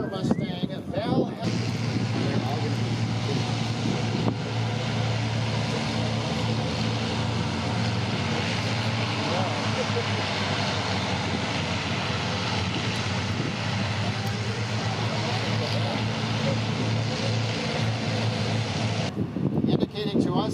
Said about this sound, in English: here's another familiar Mustang, the red and silver Mustang, Val.